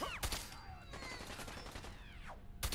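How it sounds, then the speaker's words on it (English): Enemy gunfire in Fallout 4, a few sharp shots standing out over a steady bed of game sound and music, one near the start and another at the end. "Now they're shooting at me."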